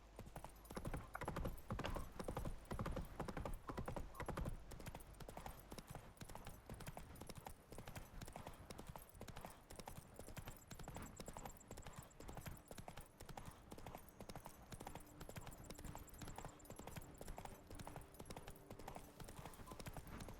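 Hooves of Roach, Geralt's horse in The Witcher 3: Wild Hunt, clip-clop in a steady trotting rhythm for about twenty seconds, close and fairly loud against game ambience and music.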